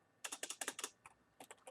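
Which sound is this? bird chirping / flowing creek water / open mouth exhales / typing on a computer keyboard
typing on a computer keyboard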